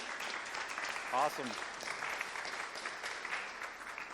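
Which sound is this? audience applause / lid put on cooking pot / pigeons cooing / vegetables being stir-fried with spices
audience applause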